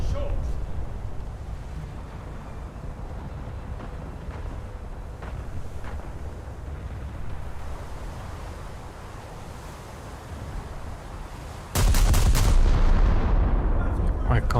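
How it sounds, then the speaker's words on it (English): Battleship naval guns fire shells in a naval video game aboard HMS Barham, a low rumbling bombardment with ocean and wind ambience, ending in a sudden loud blast followed by sustained roar. "I'll shoot over the island."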